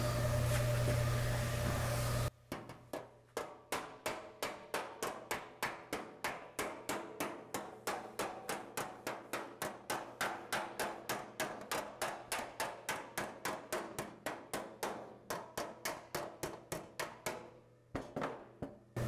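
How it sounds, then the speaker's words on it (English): Hammer blows ring out on sheet metal while an Austin Healey shroud is being shaped, a long, fast, steady run of sharp, loud, close strikes with a brief pause near the end and a few last taps. "My other favorite hammer there."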